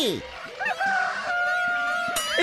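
A jungle fowl, or forest chicken, calls in woodland with a drawn-out crowing cry and a few clucks, fairly close and loud, while people talk nearby.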